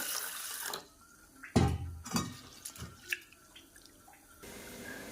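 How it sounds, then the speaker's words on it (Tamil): Moong dal lentils being washed in a kitchen vessel, water swishing and pouring with a few sloshes, drips and splashes, close by, between quieter pauses. "இதை கழுவி நல்லா எடுத்துக்கலாம்."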